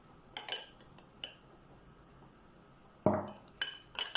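A vinaigrette of oil, salt and pepper for potato salad being stirred in a bowl: sparse metallic clinks and taps of a utensil against the dish, separated by quiet pauses, with one longer scraping swirl in the middle.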